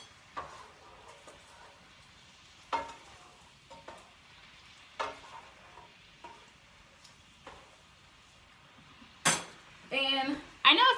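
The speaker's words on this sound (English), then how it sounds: "I'm gonna stir my teriyaki." Teriyaki being stirred in a pan: scattered spoon scrapes and clinks against the cookware with faint sizzling between, growing louder and busier near the end.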